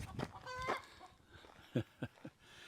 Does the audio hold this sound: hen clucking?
yes